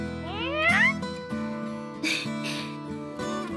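A cat meows several times in quick succession, close and clear, with rising and falling cries, while soft instrumental music plays underneath.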